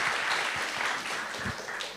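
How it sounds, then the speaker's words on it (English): Steady audience applause at a Python conference talk in Italy, a dense continuous clapping from a full room lasting the whole moment. "Let's give him a last round of applause."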